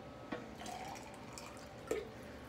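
Water poured from a tap into a blender of vegan ketogenic meal shake mix, a soft steady trickle with a couple of brief splashy drips, fairly faint and close, no talking.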